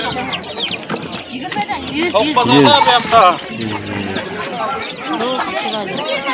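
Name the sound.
roosters and chickens clucking at a poultry market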